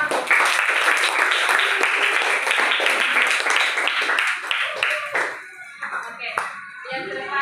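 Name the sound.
classroom applause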